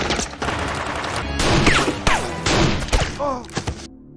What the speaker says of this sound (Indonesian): aksi tembak-tembakan pun harus terjadi di sana